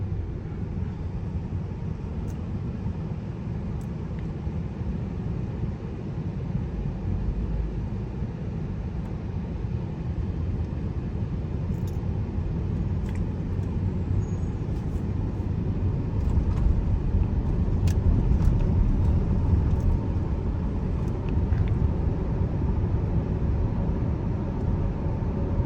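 Cabin rumble of a first-generation Tesla Model X on Full Self-Driving beta, cruising a road after a tropical storm, with steady low road and tire noise that swells slightly mid-drive and a few faint ticks.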